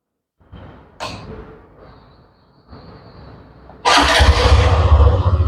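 A Hero Xtreme 125R motorcycle is started: a few short cranking bursts, then the single-cylinder engine catches and settles into a loud, steady idle close by.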